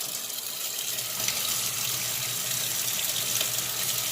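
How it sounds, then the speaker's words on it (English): Running tap water pours steadily over callaloo leaves being washed in a kitchen sink, a continuous close splashing hiss with no pauses. "Wash your callaloo, make sure you get rid of them, any insect"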